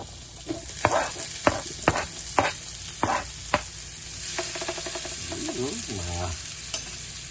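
Chopped onion sautés in a pan for ginisang sardinas, a few sharp clacks of stirring over a continuous close sizzle that steadies into a softer hiss.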